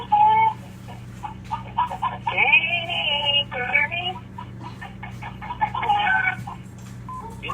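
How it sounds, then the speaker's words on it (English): Chickens cluck and squawk inside a chicken coop, busy irregular calls heard over a phone recording with a low steady hum, while a voice speaks partway through. "you can hear all the chickens behind me going, bark, bark, bark"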